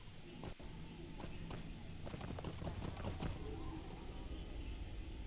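Horse hooves clip-clop in a fantasy video game on the way toward Dol Guldur, a steady trotting patter mixed with busy game sounds and sharp clattering bursts that fill the scene.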